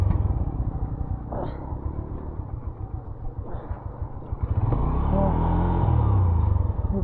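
A heavy motorcycle rumbles along on a snowy road, its engine a low steady drone with a rising rev toward the end, fairly quiet and slightly distant-sounding, with wind and road noise around it.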